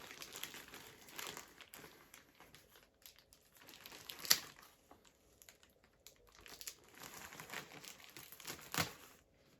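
Plastic mail packaging crinkles and tears open up close, with irregular bursts of rustling and ripping over about ten seconds.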